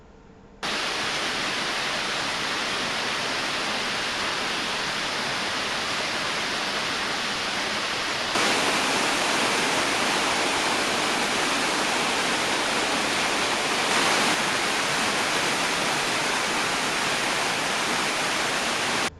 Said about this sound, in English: I popped down for a look at the local waterfalls, situated in very nice forest